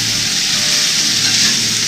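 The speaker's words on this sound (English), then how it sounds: "It's starting to sizzle real nice." Bell peppers and onions sizzle steadily as they sauté in a pan for deer chili, a loud, close, continuous frying hiss with no talk over it.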